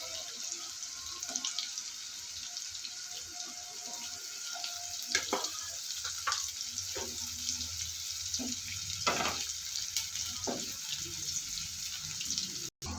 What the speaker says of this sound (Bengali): দিয়ে পেঁয়াজগুলো ভাজা ভাজা করে নেব।